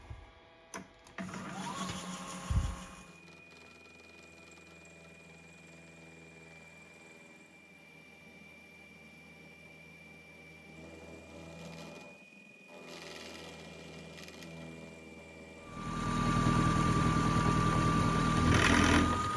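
A machine tool taking metal off the end of a connecting rod for a six-cycle engine, heard as a steady mechanical hum and whine after a few clanks, growing louder near the end, with no talking.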